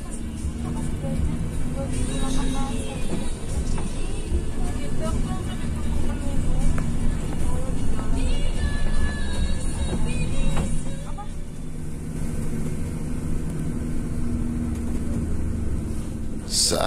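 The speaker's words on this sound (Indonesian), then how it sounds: "oper gigi 1 sampai gigi 1 perlahan merayap melibas tanjakan yang terjal ini" A PIJ bus in first gear crawls up a steep incline on the Trans-Kalimantan road, its engine laboring with a steady, moderately loud drone while someone narrates over it.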